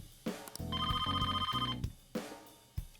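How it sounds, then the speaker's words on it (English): A phone rings in the video game Persona 5 Royal, with a bright electronic chime melody sounding for about a second amid short musical notes and soft game effects. "Oh, a phone call."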